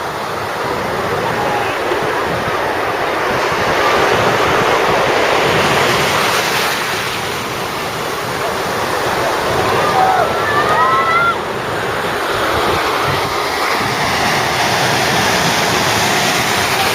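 Surf and wind at Woolacombe Sands beach in Devon: a loud, continuous roar of breaking waves mixed with gusty wind buffeting the microphone, with faint distant voices and bird calls drifting through.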